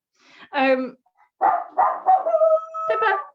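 A dog barks repeatedly in an uneven run, some barks stretching into a drawn-out whine, nearby and loud.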